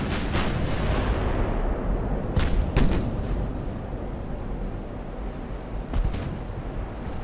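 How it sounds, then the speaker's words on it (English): Heavy warship main guns boom in Ultimate Admiral: Dreadnoughts, with several loud, close blasts rolling over a constant roar of naval battle noise, and a final boom near the end. "good hit there from the main guns"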